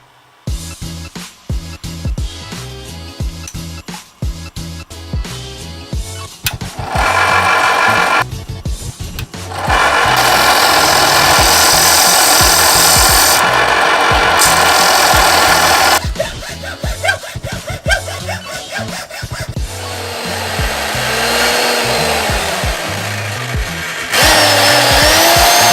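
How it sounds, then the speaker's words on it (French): A power tool cuts and sands resin blocks being shaped into rings and other jewelry. It whines loudly in bursts that start and stop, with grinding passes broken by short pauses and some rattling handling. "tout le travail ça va être de les découper et de les poncer pour faire les bagues et les autres bijoux"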